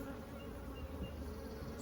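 Honeybees from an open single brood chamber hive humming steadily all around, a continuous soft drone at close range with no talking over it.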